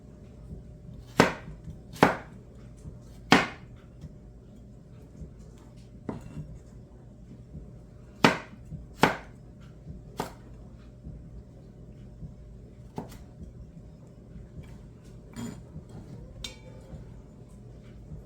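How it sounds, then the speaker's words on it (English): A knife cutting carrots julienne style on a cutting board, with sharp isolated chops spaced irregularly, some in quick pairs, over a quiet background with no speech. "So I'm not going to keep cutting up the carrots,"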